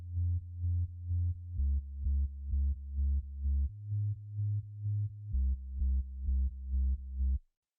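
Low, clean sine-wave sub-bass pulses in a steady rhythm, shifting between a few pitches across repeated notes, loud and alone before cutting off.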